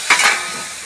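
Chili and turmeric hit hot oil with fried onion in a frying pan, a brief close burst of sizzling with a spoon scraping, then a steady hiss fading slightly.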